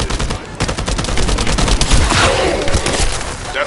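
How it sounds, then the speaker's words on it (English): Rapid bursts of video game gunfire crackle in dense, overlapping volleys, loud and continuous, like a sustained firefight. "That stopped the gunfire."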